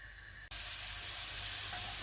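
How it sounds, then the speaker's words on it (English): Sausage and onions browning in a pan burst into a loud, steady hiss and sizzle after a brief quieter moment, continuing unbroken and close. "Look at that, sizzling away, it's lovely, making a lovely noise"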